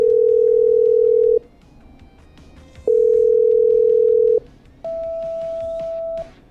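A telephone call being patched through in the Killer Frequency game: three long steady electronic tones separated by short gaps, the last tone higher in pitch, loud and clean with faint background noise.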